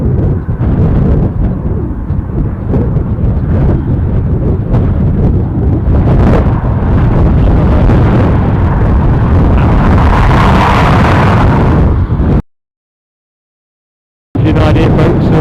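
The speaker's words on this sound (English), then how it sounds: "the strengthening wind. You can obviously hear it." Strong gusting wind at Dublin Airport buffeting the microphone, loud rumbling roar with surges, continuous until a sudden short dropout near the end.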